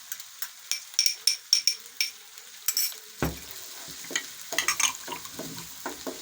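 Onions fry and sizzle in a pan as a spoon stirs them, giving repeated scraping strokes in an uneven rhythm over a soft, close hiss.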